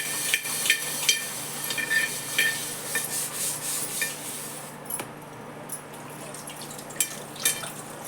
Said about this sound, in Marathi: ते बाहेरची बाजू घासते.